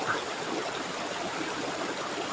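Mountain stream rushing through a canyon in the Dominican Republic, a steady, close, continuous wash of flowing water with no voices.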